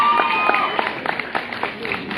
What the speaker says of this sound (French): on applaudit bien fort Océane